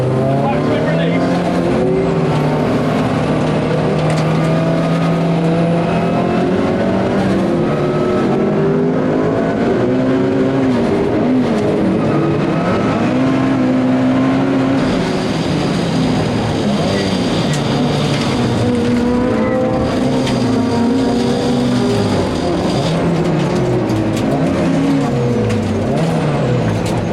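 Classic Thunder Saloons race cars on cold slicks at Silverstone, heard from onboard: a loud, continuous engine roar that climbs and drops through repeated gear changes, with other cars' engines mixing in and a voice talking over it.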